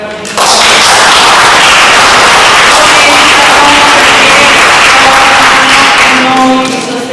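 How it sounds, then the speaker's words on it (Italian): Dense, steady applause from an audience at an Italian book presentation fills the room, loud and close, for several seconds before tapering at the end. "E fatemi un applauso perché veramente"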